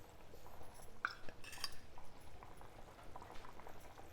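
Indian gooseberries bubble in a pot, a soft steady simmer of small pops and gurgles with an occasional faint clink, heard close but at low volume.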